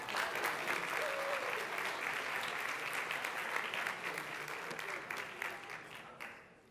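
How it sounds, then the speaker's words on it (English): An audience at a presentation claps in a full, sustained burst of dense applause that holds steady, then thins out and fades near the end. "Can I ask everybody just to start clapping?"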